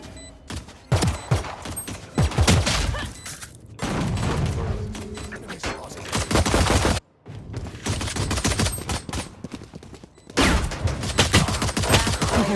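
Loud, close gunfire in the video game Valorant comes in dense volleys of sharp cracks, broken by brief pauses, including one near-silent gap midway.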